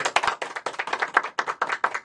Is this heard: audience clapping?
yes